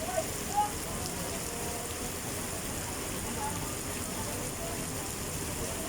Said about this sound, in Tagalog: inabutan po tayo ng ulan dito sa Paris Overload ni Idol Diwata